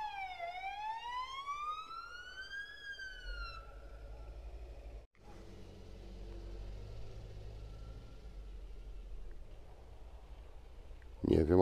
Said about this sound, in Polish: Nigdy nie umiałem odróżnić tych sygnałów. Czy to policyjne, czy karetka, czy straż pożarna.